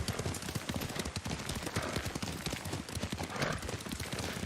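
Rapid, steady hoofbeats of a galloping horse in Ghost of Tsushima, loud and close, with a faint whinny in the mix.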